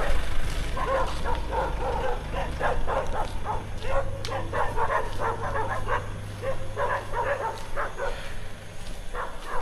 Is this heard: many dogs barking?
yes